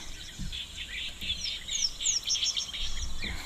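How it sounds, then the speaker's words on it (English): European bee-eaters give soft trilling calls in quick repeated bursts at a distance over a quiet waterhole, with faint insect hum and low background rumble. "Oh, there's the European bee eaters calling."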